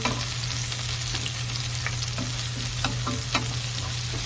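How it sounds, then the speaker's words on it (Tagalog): Onions frying briefly in a pan at home, a steady close sizzle with occasional stirring scrapes and clinks, no talking. "lutuin lang natin ng bahagya yung sibuyas"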